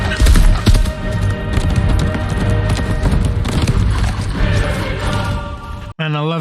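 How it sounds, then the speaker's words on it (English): Horses gallop in a fantasy battle scene from The Rings of Power, a loud, dense drumming of hooves under booming effects and music, cut off abruptly near the end by a brief tonal sound. "And I love the sound of horses running."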